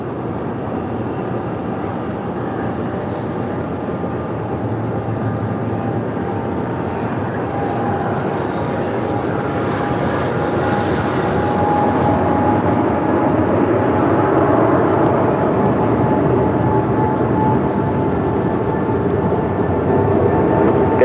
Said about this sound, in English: we do have that FedEx 777 now rolling down 25 right